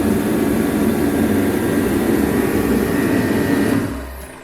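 A used replacement motor drives the fan of a 1960s GM dealership sign with a loud, steady whirring drone and low rumble, which winds down near the end.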